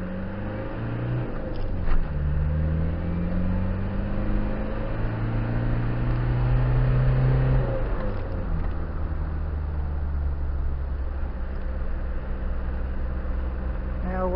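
A Land Rover Discovery 300tdi diesel engine revs up and holds higher RPM, steady and fairly close, with rising engine tones, while someone talks over it.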